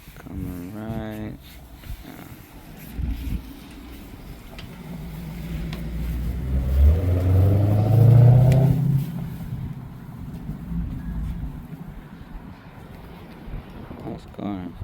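A Dodge Hellcat passes by and revs, its supercharger blower whining as a rising tone swells to a loud peak mid-clip and then fades, with wind noise throughout.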